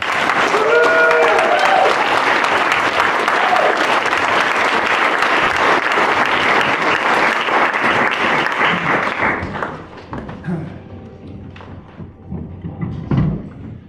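An audience welcomes a speaker named Scott Bump with loud, dense applause that holds for about nine seconds, then thins out into scattered claps and a few thumps.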